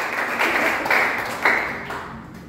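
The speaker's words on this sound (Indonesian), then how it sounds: "Tepuk tangan bagi Tuhan" A church congregation applauds during a sermon, a moderate wash of clapping with a few sharper accents that fades toward the end.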